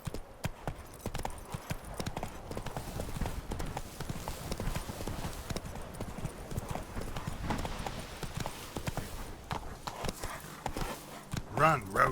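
Roach the horse gallops in The Witcher 3, with continuous rhythmic hoofbeats, a brief whinny, and a voice speaking over them.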